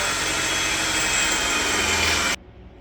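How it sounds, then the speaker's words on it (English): A power drill whines steadily at full speed while drilling a 5/16-inch hole for a couple of seconds, then cuts off abruptly. "Drill a hole."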